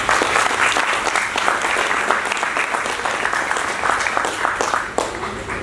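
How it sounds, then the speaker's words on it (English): Steady, loud applause from a lecture audience fills the whole stretch, dense clapping from many hands with no pause and no voices. "So I request all of you to give them a big round of applause."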